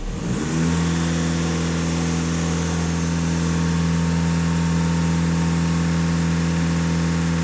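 Audi A4/A6 EA288 diesel engine with a particulate filter fault (P2002) running after start-up, a loud, close, steady droning hum with a low rumble that settles in within the first second and holds evenly.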